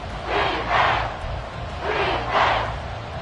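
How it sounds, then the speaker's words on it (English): A stadium crowd at Arrowhead in an American football video game, late in the fourth quarter, roars in two big surging swells that rise and fall over a few seconds. "The Arrowhead crowd in full roar."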